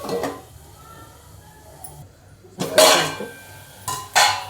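A lid clatters onto a pan of onions sautéing with salt while cooking pithla, giving a couple of sharp metallic clanks over a soft background sizzle.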